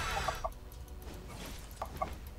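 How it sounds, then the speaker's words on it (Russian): Ghost chicken courier in Dota 2 clucking a few times in short clipped bursts, fairly close, over the low bed of in-game sound. "Это была призрачная кура."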